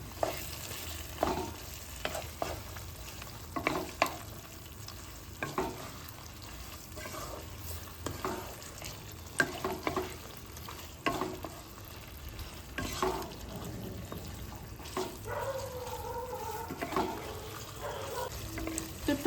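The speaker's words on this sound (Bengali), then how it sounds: "এবার টক দইটা দিয়ে কিন্তু মাংসটাকে আর একটুখানি কষিয়ে নেবো" Chicken stir-fried with sour yogurt in a pan for chicken pulao, rhythmic spatula scrapes and knocks over a low steady sizzle, close and moderately quiet.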